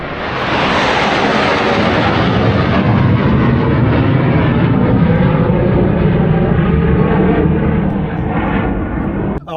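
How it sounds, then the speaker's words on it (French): Loud, continuous roar of fighter jets passing overhead on a quiet hiking route, a broad jet rumble that stays steady for nearly ten seconds before cutting off abruptly at the end. "mais des fois il y a des avions de chasse"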